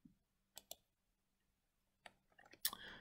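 A computer mouse in Microsoft Excel gives a couple of quiet, close clicks in near silence, followed by a louder burst of handling noise at the end.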